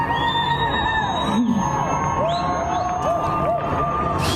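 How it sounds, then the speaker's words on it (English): A street crowd in Iran celebrating Khomeini's death: a dense, continuous roar of cheering and shouting voices, with shrill whistles rising through it again and again. "People celebrating the news of Khomeini's death."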